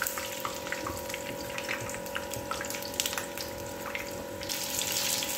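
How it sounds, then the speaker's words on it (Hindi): Chillies frying in hot oil for iftar snacks, a dense continuous bubbling sizzle that sounds close, with a steady background hum and no talking. "अच्छा गरम गरम तेल में डालना है।"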